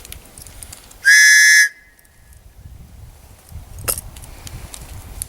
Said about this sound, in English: Got my whistle.